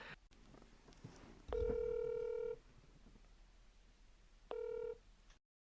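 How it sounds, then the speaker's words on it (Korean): Two sets of steady telephone tones sound, a long one then a shorter one, separated by quiet, like a phone line dialing out. "제가 전화를 연결하도록 하겠습니다."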